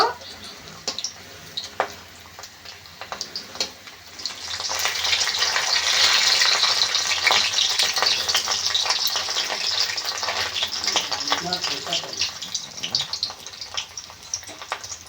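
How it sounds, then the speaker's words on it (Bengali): Paneer pieces fry in hot oil in a home kitchen and are turned over one by one. A low crackle swells into a loud, dense sizzle after a few seconds and keeps bubbling steadily. "উল্টে উল্টে বেশ দুদিকে ভালো করে ভেজে নেব একটু।"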